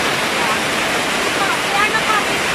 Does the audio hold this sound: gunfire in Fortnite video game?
no